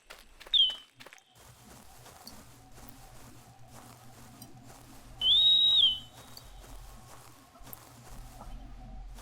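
In the Prehistoric Hunt game, a tracking collar whistle gives a quick high chirp, then a longer sustained whistle a few seconds later, over steady walking footsteps and low rumbling background.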